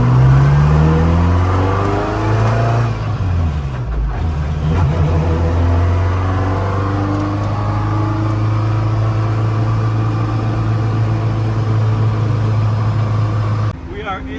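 A grey Ferrari F40 supercar carries its occupants along, its engine droning with shifting pitch, then settling into a loud, steady low hum from inside the cabin while people talk over it.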